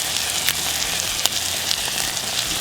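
Crushed tomatoes, sugar and basil stirred into a sizzling soup pot, a loud steady fry with a few sharp spoon clicks, no talking.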